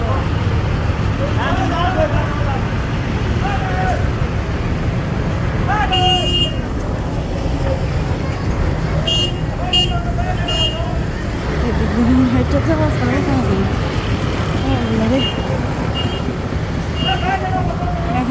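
A jammed road gives a loud, constant rumble of idling traffic, with scattered horn toots and nearby crowd babble, while someone talks over the noise.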